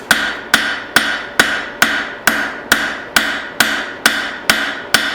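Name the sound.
cross peen hammer forging metal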